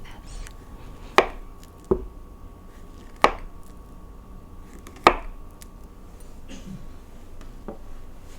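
Bananas chopped into big chunks on a board, four crisp knife strikes spaced a second or two apart with softer taps between, close and quiet with no talking.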